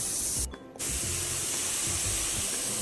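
Onions and spices sautéing in a pan on the stove, giving off a steady, loud sizzling hiss throughout, with a brief dip in the middle where the noise drops away.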